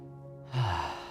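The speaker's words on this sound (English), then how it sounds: "breathing out" A single audible exhale during a tai chi flow, a soft breathy sigh rising after a quiet moment and trailing off gently, close and alone over a faint steady background hum.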